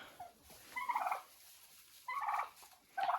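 Turkeys gobble in three short, warbling bursts, moderately close, with quiet pauses between them and no talking.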